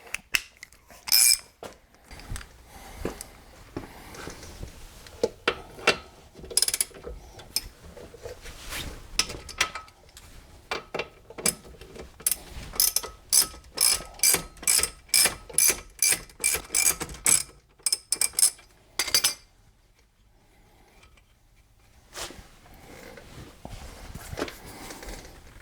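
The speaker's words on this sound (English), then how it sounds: "we'll go ahead and start with removing the outer tie rod" A ratchet works on the outer tie rod at the knuckle of a Pontiac GXP during a coilover install. It gives rapid repeated clicking bursts, then a long steady run of even clicks, close and loud, before trailing off near the end.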